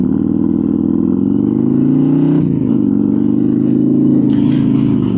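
Harley-Davidson motorcycle with a 135 cubic inch crate engine, S&S 550 cam and RTX Riot exhaust, revving steadily nearby with a deep, loud, continuous throb that dips briefly then climbs again.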